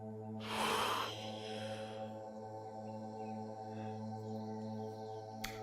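A single loud, breathy rush of air from a two-step yoga meditation breathing exercise with passive inhale and active exhale, lasting about a second near the start, then fading into a steady electrical hum with faint insect-like chirps.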